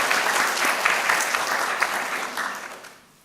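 A church congregation at a Sunday anniversary thanksgiving service claps in thanks, a loud, full burst of many hands that holds for a few seconds and then tapers off.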